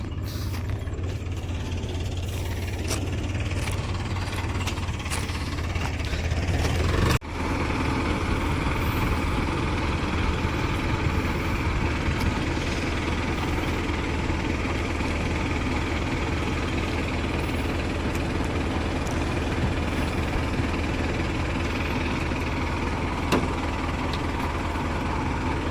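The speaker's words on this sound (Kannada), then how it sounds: "ಇಲ್ಲಿ ನಮ್ಮ ಟ್ರ್ಯಾಕ್ಟರ್ ಬಂದಿದೆ ನೋಡಿ ಗಾಯ್ಸ್" A tractor engine idles at a home foundation construction site, a loud steady diesel rumble running on without pause, with a sharp mechanical clunk early on and faint clatter in the background.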